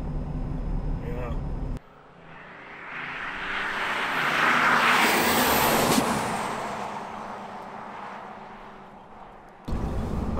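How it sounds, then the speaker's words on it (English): 850 hp common rail Dodge Cummins diesel truck doing a burnout, a loud sustained roar of engine and spinning tires that swells and fades over several seconds, with people talking nearby before and after. "We've got a couple burnouts. This thing just lights them off crazy."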